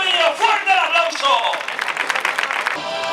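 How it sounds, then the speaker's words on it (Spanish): An outdoor crowd claps for a performer at a village recortes bull-leaping contest in Peralejos de Abajo, a burst of lively applause rising after a loudspeaker announcer's voice and briefly overlapping it. "Paquino Morillo, fuerte el aplauso."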